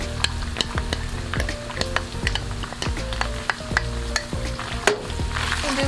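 Onions and garlic fry in a pan for homemade spaghetti Bolognese, a steady sizzle broken by repeated scraping stirs and knocks of the utensil against the pan, close and fairly loud with no talking.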